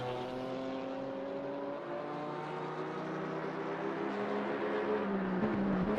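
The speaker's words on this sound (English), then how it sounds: "Wilson in the Aston Martin GT3 will go up the inside as they come down the chute." Multi-class GT race cars, including an Aston Martin GT3 and BMWs, drone steadily at Watkins Glen, with layered engine notes that rise slightly in pitch as they accelerate, sustained and moderately close.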